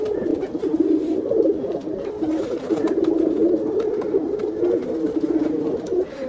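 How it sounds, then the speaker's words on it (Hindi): A pair of pigeons, a male Rampuri and a netted Kalsari female, cooing close by in a continuous, rolling series of soft, throaty calls that overlap with no pause. "अमोल भाई कौन से कबूतर?"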